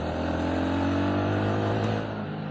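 A BSA Bantam 350 motorcycle engine revs high under steady load while riding, a loud continuous buzzing drone with strong harmonics, close to the microphone and holding throughout with only slight variation.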